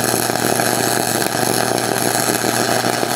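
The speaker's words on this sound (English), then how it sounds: "I'm just gonna lay down a quick bead so you guys can see what it looks like" Steady, loud buzzing and crackling of a welder laying a quick bead, continuous and close with no talk.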